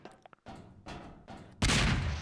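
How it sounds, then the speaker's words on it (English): A sudden loud blast in the video game Portal erupts near the end, preceded by a few softer rumbling bursts and brief clicks, with no talking. "A loud explosion right in my ear"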